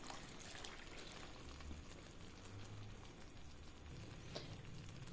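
A cup of chickpea boiling stock is poured into a cooking pot for Lahori chickpea curry, giving a soft, steady liquid splash and trickle that runs quietly and evenly throughout.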